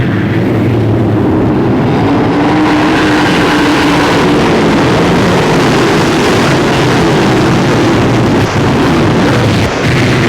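Modified race cars at Ogilvie Raceway roar off together at the start of a 30-lap race, a loud, continuous wash of engine noise from the pack with no break throughout.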